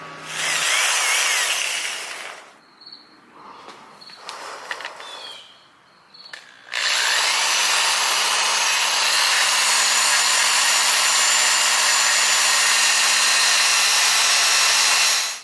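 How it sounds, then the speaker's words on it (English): Drill fitted with a wire cup brush scouring rust off an iron handrail, with a loud, steady whirring grind in two bursts and scraping, clattering handling noise between them. "The bottom part over here, I went over it with the wire cup brush and got most of the rust off."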